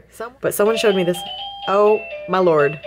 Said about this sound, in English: That's the doorbell.